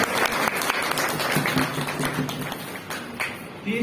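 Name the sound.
audience applauding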